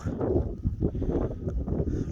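Strong gusty northwest wind buffets the microphone with a continuous low roar, rising and falling in uneven surges.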